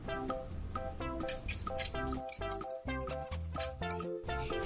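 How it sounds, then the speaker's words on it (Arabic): A mouse squeaks in a rapid series of high, thin chirps over a steady tonal background, moderately loud and close throughout. "فأر"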